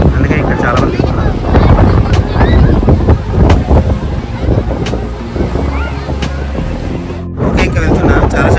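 Sea waves and strong wind at a beach in Dhanushkodi, a near, continuous surf wash with heavy gusts buffeting the microphone and a brief drop-out near the end.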